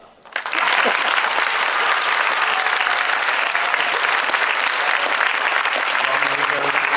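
Dense, steady applause from a concert audience at a high school band's senior recognition, rising quickly after a short lull and holding loud and continuous, with a faint voice near the end.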